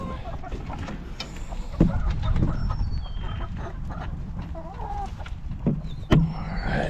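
Several chickens in a chicken tractor cluck and squawk nearby, irregular calls scattered over a low background rumble, with a couple of louder bumps.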